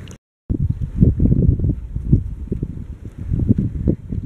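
Wind blowing outdoors at a scenic viewpoint, a continuous low rumbling buffet against the microphone that swells and gusts, loud and close, with a brief dropout near the start.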